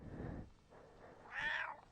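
A cat meows once, fairly close and clear, after a stretch of low rustling and quiet background noise.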